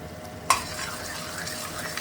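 Onions frying in a pan on a gas stove, a sharp clatter of a utensil at the start, then a continuous close sizzle with stirring scrapes and no talk.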